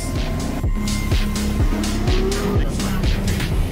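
A Porsche corners hard on a handling test circuit, its engine rising and falling through repeated gear changes with tyre noise, loud and close throughout.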